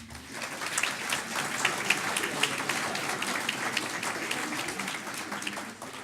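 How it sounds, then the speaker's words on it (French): An audience claps steadily throughout, a dense, even patter of many hands at moderate distance. "je voudrais qu'encore une fois, vous les applaudissiez"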